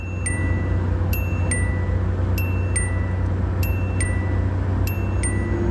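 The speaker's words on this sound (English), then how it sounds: "the car starts making this specific chiming sound like this." A 1980s–90s Japanese car's 65 mph speed warning chime rings as a steady, repeating series of clear bell-like dings, about eight in all, over a constant low engine and road hum.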